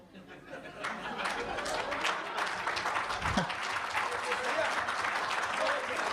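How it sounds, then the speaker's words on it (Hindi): Audience at a Hindi comedy poetry recital (hasya kavi sammelan) breaks into sustained applause, a dense, continuous wash of many clapping hands mixed with laughter and chatter, rising quickly and holding steady. "दूसरी जो समझ जाएंगे वो तालियां बजा देना"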